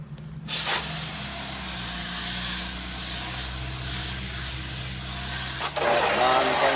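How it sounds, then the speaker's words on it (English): A steady, loud hiss of water spraying onto air conditioner coils runs throughout at close range, with a low engine-like hum underneath. "You can spray all the way down."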